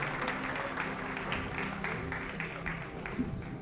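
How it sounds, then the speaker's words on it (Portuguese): A church congregation applauds during a worship service, a soft, somewhat distant patter of many hands clapping steadily through the moment, with faint voices underneath. "Dá uma linda salva de palmas aí"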